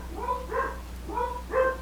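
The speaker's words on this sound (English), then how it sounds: "Cue dog barking." A dog barks two double bursts, each a pair of quick yelping barks, close and fairly loud over a low steady hum, with a short pause between them.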